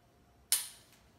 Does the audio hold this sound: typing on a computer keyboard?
no